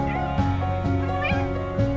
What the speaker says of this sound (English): Princess Snow Meow has joined us. Meow meow.